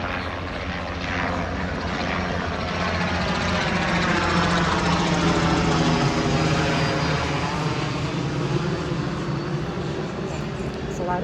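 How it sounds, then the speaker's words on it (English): A helicopter passes loudly right overhead on a walkway outside the Disney tree houses, its broad rotor and engine roar holding steady and close for the whole stretch. "There's a loud helicopter went right over me."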